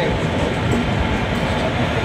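The Saraighat Express rumbles as it rolls slowly into a platform at New Bongaigaon Junction, a steady close rail roar with faint rhythmic clatter.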